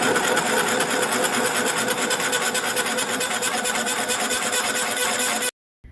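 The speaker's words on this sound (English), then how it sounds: "Lots of drilling with a hole saw," A continuous grinding, rasping whir of a hole saw cutting holes in a steel post driver adapter, loud and close, running steadily before stopping abruptly near the end.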